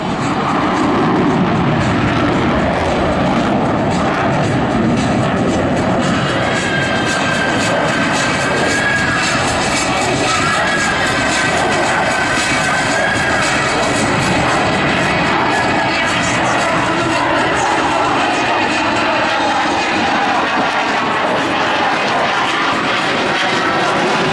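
A Blue Angels F-18 Hornet jet roars through an afterburning turn at an air show at Naval Air Station Joint Reserve Base New Orleans, a loud, continuous, broadband engine blast that fills the whole stretch.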